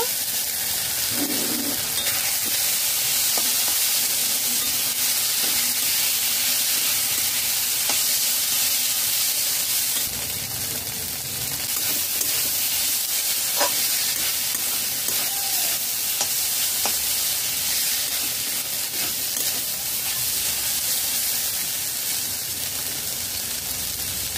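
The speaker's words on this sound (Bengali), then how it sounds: "দু মিনিট মাছ ভেজে নিয়েছি।" Boiled fish pieces fry in a pan for fish cutlets, a dense, loud, continuous sizzle and hiss that holds steady throughout, heard up close and alone.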